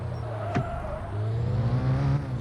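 A car in a demolition derby video game drives with a steady, loud engine drone and shifting revs, plus one brief sharp burst partway through, with no voices over it.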